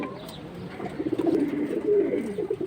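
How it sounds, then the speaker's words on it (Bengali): A male pigeon of a high-flying breed calls in a series of soft, low throaty coos close to the microphone, repeating in short rolling bursts. "কবুতরের সৌন্দর্য হচ্ছে নরের ডাকে চোখ দেখেন কত ছোট হয়ে যাচ্ছে"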